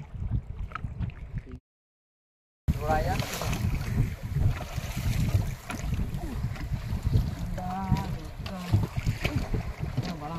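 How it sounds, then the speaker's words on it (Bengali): Strong waves on the Matla river in the Sundarbans slap and surge against a small fishing boat, with heavy wind buffeting the microphone, a brief dropout, and a voice talking over the rough water. "পদ্মাটা এত ঢেউ হচ্ছে তো প্রচন্ড ঢেউ, মানে লাইফে এরকম ঢেউ আমি বিদ্যায় দেখিনি আসে।"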